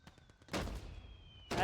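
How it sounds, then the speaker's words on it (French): Mortar shell explosions from the video game Call to Arms: a few quick distant pops, then a heavy booming blast with a rumbling tail and another burst at the end, faint and muffled in the mix. "il s'est pris un obus de mortier"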